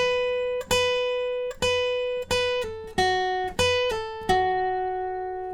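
Guitar riff from a song, with pull-offs: bright, clean plucked notes in spaced groups, each ringing and decaying, played alone and close.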